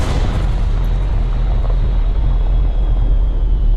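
Loud, dense rumbling blasts from StarCraft: Remastered, retro 90s-style game explosions during a fight with the Protoss, a heavy continuous boom with crackling noise that fades slightly toward the end.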